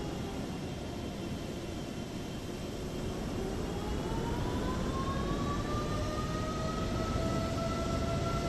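PMDG 777-300ER thrust reversers deploying in a flight simulator game during a Thai Ops landing at Hong Kong, giving a loud, steady roar of broadband engine noise with rising whine tones that keeps going throughout, no talking.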